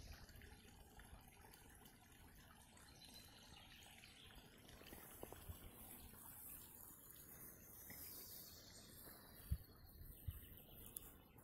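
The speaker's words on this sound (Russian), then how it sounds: "Тишина, и слышно только, как вода журчит." A small mountain stream runs through a quiet canyon near Ai-Petri in the morning, its soft, steady babble faint and distant, with a few brief clicks and taps and light insect or bird sounds in the background.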